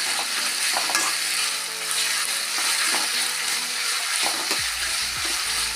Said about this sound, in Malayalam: നന്നായിട്ട് ഫ്രൈ ആവണം